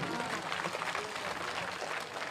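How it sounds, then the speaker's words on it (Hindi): At an outdoor nomination rally in Raxaul, a political crowd claps for a BJP candidate. Faint, far-off applause rolls on evenly throughout, with scattered voices mixed into the clapping. "वो जोरदार तालियां प्रमोद जी के लिए बजा दीजिए"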